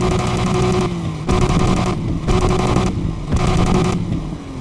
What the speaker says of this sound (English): So if I'm at smooth and I've got it turned all the way down, the exhaust note sounds like this.